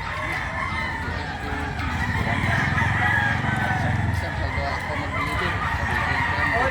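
Native roosters crow repeatedly amid the steady din of the busy Bucawe livestock market, with overlapping birds and crowd murmur filling the background at close range.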